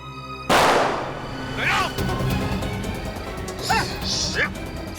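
One sharp, loud gunshot cracks out early, fired at a CID officer in a crime drama, followed by fainter echoing bangs and a noisy scene.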